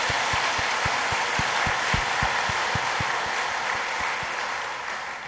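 A church congregation gives sustained applause at a New Year worship service, a dense wash of many hands clapping with a few distinct nearer claps, fading slightly toward the end.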